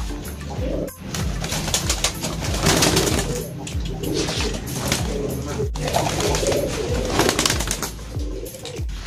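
Domestic pigeons coo repeatedly in a loud, dense chorus, with overlapping throaty calls close by and continuing throughout.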